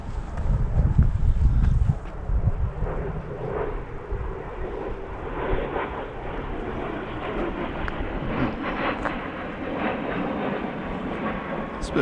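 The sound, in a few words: private jet flying through Scottish glens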